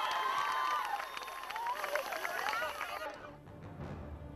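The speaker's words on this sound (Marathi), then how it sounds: "निवडीचं पत्र शाळेला प्राप्त होताच विद्यार्थिनींनी जल्लोष केला" Schoolgirls cheer and celebrate, a dense burst of high excited shouts and clapping that fills most of the moment before cutting off abruptly.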